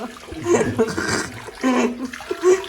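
Jugfuls of water poured over a person bathing outdoors, splashing and gushing loudly up close in uneven surges while people talk nearby.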